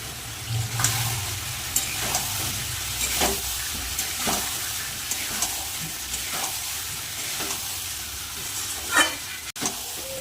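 Spice masala with salt and turmeric frying in a pan, a steady low sizzle broken by repeated scraping stirs with a spoon, close and moderately loud, with no talking.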